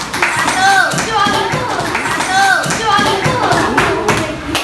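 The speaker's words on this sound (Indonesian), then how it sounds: "beri tepuk tangan kelompok" A primary school class claps for a group of classmates, loud and close, with rhythmic bursts of hands over talking voices and a few thumps.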